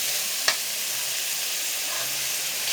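Salt being stirred into tomato bath in a hot pan, a steady soft sizzle with one brief scrape of the spoon near the start, close and quiet with no talking.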